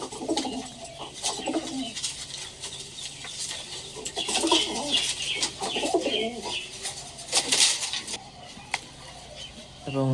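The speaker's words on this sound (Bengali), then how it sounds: "এটা হচ্ছে আমার বাসার কাজ করা একটা নর কবুতর।" A male pigeon coos in soft, low, repeated phrases, close by, with some rustling and faint other bird sounds around it.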